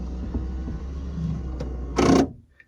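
A faulty driver's side window regulator on a DeLorean DMC-12 gives a short, loud grinding burst as the window is raised, rising sharply out of a low steady idle rumble and then cutting off.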